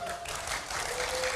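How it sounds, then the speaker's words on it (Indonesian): Audience applause at a first debate between regency head and deputy candidates in Tana Tidung, a soft, steady clatter of clapping held at a distance, with a faint tone running beneath. "kita berikan tepuk tangan bagi pasangan calon nomor urut 2"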